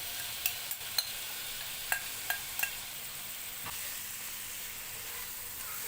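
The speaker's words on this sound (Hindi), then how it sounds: "ये अपना सारा मैरिनेटेड किया हुआ चिकन इसमें ऐड कर देंगे" Marinated chicken fries in about a tablespoon of cooking oil in a saucepan over a medium gas flame: a faint, steady hiss of sizzling oil broken by a handful of sharp utensil clicks, with no talking.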